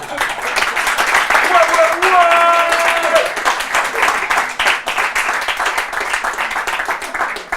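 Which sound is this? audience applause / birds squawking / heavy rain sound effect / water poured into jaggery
audience applause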